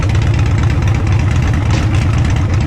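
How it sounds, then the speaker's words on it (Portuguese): A used Harley-Davidson Dyna motorcycle engine runs loud and close, a deep, pulsing V-twin rumble that holds steady throughout with no one speaking over it. "eu vou pedir agora pra minha Lemoa ligar minha motoca pra eu mostrar pra vocês aquele bote que eu falei no início do vídeo"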